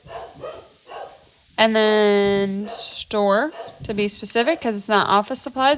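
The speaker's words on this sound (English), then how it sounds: "Sorry about the dogs." Dogs bark and whine in the background, with one drawn-out, high whining yelp standing out, while a person talks steadily over them.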